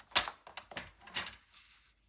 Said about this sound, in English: So we'll bring in the basic gray cardstock and we will cut from here.